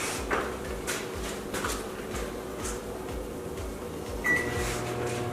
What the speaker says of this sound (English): You're going to put it in the microwave for 20 seconds at a time.